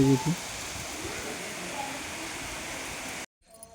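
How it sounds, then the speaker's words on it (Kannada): Steady hiss of rain falling, constant and moderately loud, with a brief voice-like sound at the start, then abruptly cutting to near silence. "ನೋಡಪ್ಪ ಇಲ್ಲಿ ಮಳೆ ಚಾಲು"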